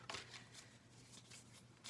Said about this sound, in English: I did shuffle out some cards